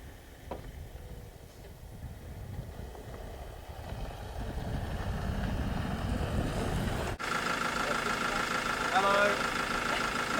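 A Land Rover ute drives in Mongolia, its engine giving a steady rumbling drone that builds gradually, with voices talking over it in the latter part.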